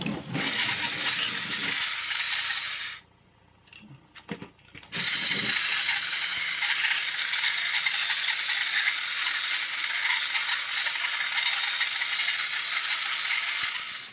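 The small plastic gears of a refurbished 1970s TOMY walking karate robot toy whir and rattle in a steady, close mechanical buzz, stopping for about two seconds with a few clicks before running again.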